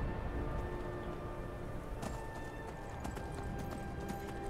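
Horse hooves in the video game Skyrim, a continuous galloping clip-clop under a dense steady wash of game ambience, moderately loud and close.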